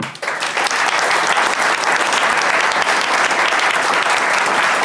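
Sustained, dense applause from a large audience at a Vienna digital humanism event, steady and loud from start to finish after a welcome for a city culture councillor, with no voices above it.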